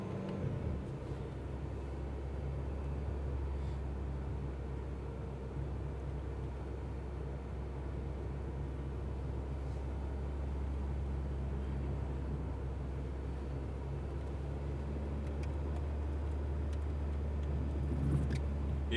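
An Alpine A110R pulls away on the Bugatti circuit, a steady low engine rumble that holds level and fairly distant for the whole stretch, with no voices.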